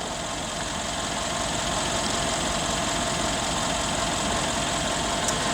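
A 2012 Mercedes-Benz CLS63 AMG sits idling outdoors in snowy weather, its engine giving a steady, continuous rumble with a smooth low-end hum and no revving, heard close and alone without any talking.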